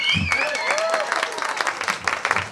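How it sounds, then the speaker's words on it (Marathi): Audience applause at a music show, with a whistle and a voice at the start and then scattered, uneven clapping. "मंडळी, आवडला असेल तर एकदा पुन्हा टाळ्या वाजवा."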